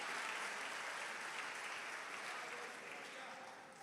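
A church congregation applauding Jesus during a sermon, giving a continuous wash of many hands clapping that holds steady and then eases slightly toward the end, fairly faint and distant with no speech over it.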